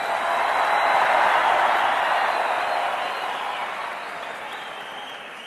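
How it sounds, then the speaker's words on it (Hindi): A large audience applauds during Prime Minister Narendra Modi's speech at a Gujarat event: dense, loud, sustained clapping and crowd noise that tapers off slightly toward the end. "ये आपके तालियों की गूंज पोरबंदर तक सुनाई जा रही है।"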